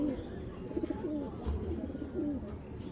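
Old-breed Babra pigeons coo in a pigeon loft, soft low rolling calls repeating close by over a steady background murmur.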